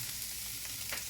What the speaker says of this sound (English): So just keep stirring it around, letting it cook, cooking the cabbage.